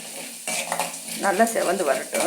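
Chana dal and urad dal frying in a pan, with a soft crackle and sizzle as they are stirred, plus a few clinks of a spoon against the pan. A voice speaks over the cooking throughout.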